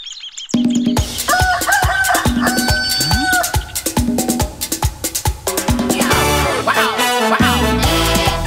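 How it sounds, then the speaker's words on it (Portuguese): A rooster crows in a henhouse full of hens within a children's farm song, the crowing and clucks set over a loud, bouncy musical backing. "Galinheiro com muitas galinhas e um galo cantor"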